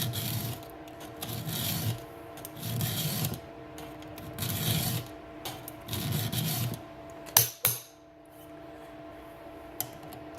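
A hand file sharpening a chainsaw chain makes rhythmic rasping strokes, five in a row and close up, followed by two sharp taps as the file is knocked clean, with no talking.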